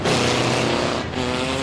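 A race car on a track's front stretch roars past loudly with a brief dip and scrape midway, amid continuous engine noise and a harsh tire-skid texture during an on-track flip and crash.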